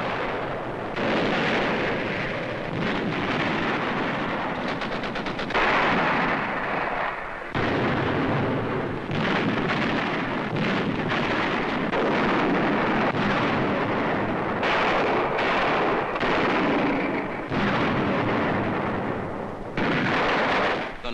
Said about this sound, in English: From Tsurubachi's 500-foot elevation, enemy mortars hold the entire island in range.